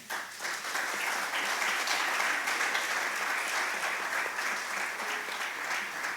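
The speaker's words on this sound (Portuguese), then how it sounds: "e também para eles uma salva de palmas" Audience applause at a religious education curriculum presentation in Portugal: a full, even wash of clapping that swells quickly and holds steady for several seconds before tapering slightly, with no talking over it.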